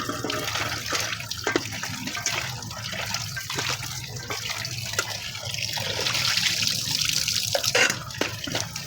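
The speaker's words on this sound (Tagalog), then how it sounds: "Kamesa, hugasan po natin ng mabuti." Chicken feet are rinsed under running kitchen water while an adobo is prepared, making a steady, close splashing stream with small drips and no talking.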